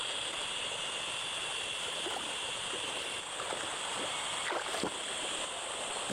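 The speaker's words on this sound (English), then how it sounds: "the pleasant sound of flowing water" A stream flows steadily through a primeval forest, a constant broadband rush of water at moderate level, continuous and unbroken with a few faint knocks and splashes, no voices.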